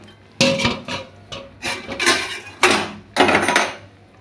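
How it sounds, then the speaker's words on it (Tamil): A lid set down on a clay cooking pot of sardine curry, giving several close, sharp clattering knocks and scrapes of pottery in a short burst, with no voices. "மூடி போட்டுருவோம்."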